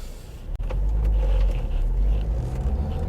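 A car drives through traffic lights in a filtering lane on the way toward Wincheap Industrial Estate, giving a steady, close low rumble of engine and road noise from inside the cabin, broken by one brief dropout near the start.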